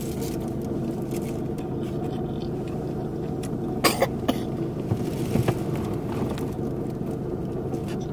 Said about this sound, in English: Don't mind her coughing.